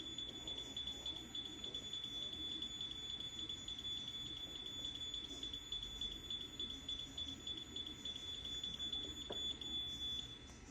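A Wake Hydro Mini alarm clock, still holding water, buzzes continuously with a steady high-pitched electronic tone, sustained and unbroken, with faint background rustle and no voices.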